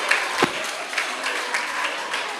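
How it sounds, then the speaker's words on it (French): Brief, uneven clapping from a small group after a penalty round, a few sharp claps and a loud shout near the start, then scattered claps fading out with voices mixed in. "On applaudit pour moi quand même"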